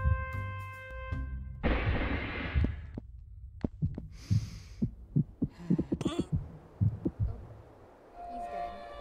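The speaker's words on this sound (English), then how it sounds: "Sometimes I'm just hearing a heartbeat like directly in your ear." A heartbeat in the Henry Stickmin video game throbs in a repeated low pulsing rhythm, loud and close as if right at the ear, mixed with other game sounds and a faint hum.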